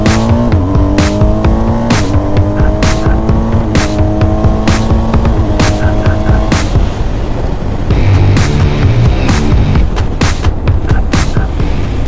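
A 2021 BMW R1250 GS motorcycle accelerates hard on a test ride, its engine climbing through several gears in repeated rising sweeps with brief shift breaks, loud and close with wind rush.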